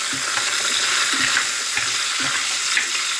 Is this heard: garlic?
yes